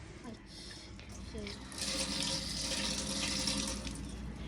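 Tap water runs into a newly fitted sink in a village home, a steady broadband hiss that swells louder partway through and continues under a voice.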